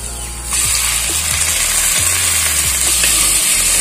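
Prawns go into a hot pan and set off a loud, close burst of sizzling that starts sharply and then holds as a steady hiss, with a low mechanical whir ticking beneath it.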